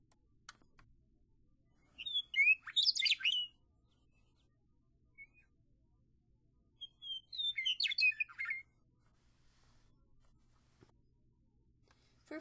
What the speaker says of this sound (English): They've now created the audio file for all the state birds.